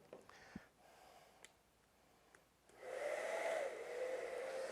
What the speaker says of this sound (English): Take that hair dryer and just slowly heat up this kydex area.